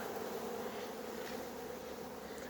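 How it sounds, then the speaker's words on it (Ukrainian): Swarm of honeybees buzzing steadily around the entrance of a beehive, a dense continuous hum close by with no voices. "А це вгорі своя пчела повисла."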